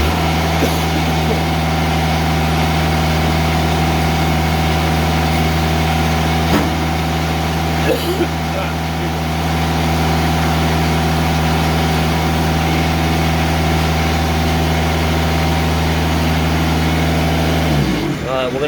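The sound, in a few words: sawmill engine running while turning the log over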